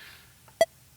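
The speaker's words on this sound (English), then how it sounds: "There you go, a nice beep." A single short electronic metronome beep from a Roland V-Drums electronic drum kit, sharp and clear, sounding once in near silence.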